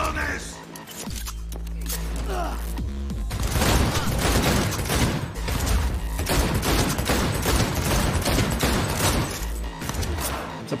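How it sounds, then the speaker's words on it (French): Submachine gun fire in Cyberpunk 2077, sustained rapid bursts that are loud and dense for most of the stretch, with a voice talking excitedly over the shooting. "Putain, la mitraillette!"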